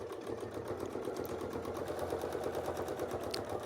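Sewing machine stitching a quilt wreath design, a fast steady mechanical whir with a rapid, even needle rhythm running throughout.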